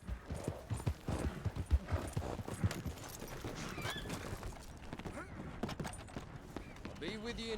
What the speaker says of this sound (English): let me get my horse off the track, because I don't want the horse to die when it gets hit by the train